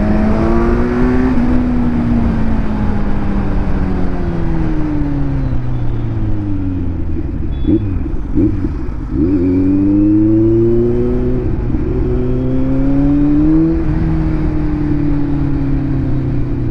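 Close and loud, a Kawasaki Z900 superbike with an IXL exhaust revs on a group superbike ride, its engine note swooping up and down with a sharp throttle blip near the middle before settling back to a steady roar.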